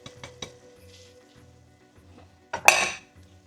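Empanada filling of meat seasoned with pepper, paprika and cumin cooks in a pan, giving soft sizzling under a few metal clinks and a louder scrape-and-stir burst near the end.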